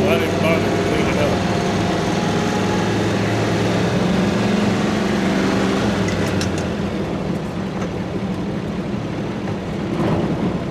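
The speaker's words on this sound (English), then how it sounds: "Got a pretty bad exhaust leak" A 1965 Dodge D200 truck engine idles with a bad exhaust leak, a steady loud rumbling drone that holds continuously without speech, with a few faint higher ticks near the end.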